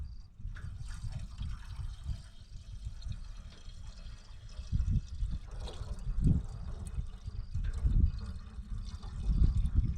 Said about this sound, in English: so we'll just put some water in it.